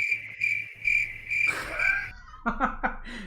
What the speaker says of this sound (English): Nice crickets.